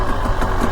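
Motorcycle engine running steadily on a single-track dirt trail, a continuous low rumbling drone at even loudness throughout, with no voices.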